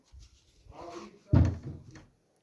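A door swings shut with one close, solid wooden thud midway, after a softer knock and some shuffling, while voices talk nearby.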